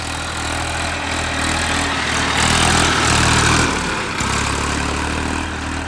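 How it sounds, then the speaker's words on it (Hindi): A Massey Ferguson 241 tractor engine runs loudly and steadily close by, its low throbbing drone swelling slightly midway before settling back. "चाल देखो ट्रैक्टर की भाई।"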